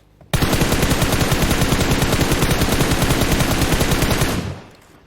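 Video game gunfire: one loud, unbroken stream of rapid automatic shots starts abruptly, keeps going for about four seconds and then fades away.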